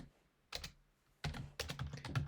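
Someone types on a computer keyboard: a short burst of key clicks, a pause, then a quicker run of several close, crisp keystrokes.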